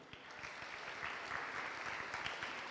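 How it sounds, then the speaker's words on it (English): Audience applause at a Teacher Appreciation Day program, a steady wash of many hands clapping that fills the whole stretch at moderate loudness, with no voices over it. "One final round of applause."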